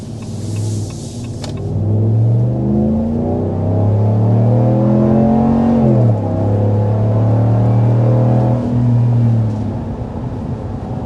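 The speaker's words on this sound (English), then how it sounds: "start with a hard acceleration to show you what that HEMI V8 is all about" A 2026 RAM 1500 Big Horn pickup with a HEMI V8 accelerates hard, its deep engine roar rising in pitch through gear changes, loud and close with no talking.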